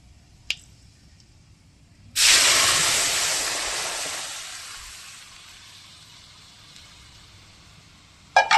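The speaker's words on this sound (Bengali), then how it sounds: "ফোড়ন দিয়ে দিয়েছি, সর্ষে আর শুকনো লঙ্কা ফোড়ন" Mustard seeds and dry red chillies tempering in hot oil burst into a loud, sudden sizzle that slowly fades to a softer hiss, with a couple of sharp pops at the start and end.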